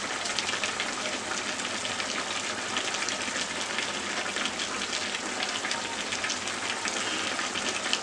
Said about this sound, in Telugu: బబుల్ సౌండ్ వినిపిస్తుంది కదండి, అంటే అందులో వాటర్ అంతా కూడా బయటకు వస్తుంది